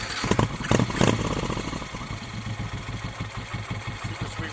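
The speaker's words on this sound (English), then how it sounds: "Super sweet running motor." A Harley-Davidson Eldo motorcycle engine, freshly serviced after a frame swap, runs close by with a steady, lumpy idle rhythm and a few louder revs at the start, with no talking.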